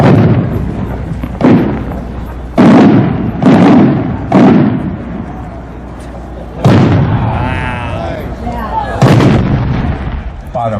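Several 8-inch fireworks shells burst one after another at a winter fireworks showcase, loud booming thuds with rolling echoes and crackle in the tails, and a voice speaking between bursts.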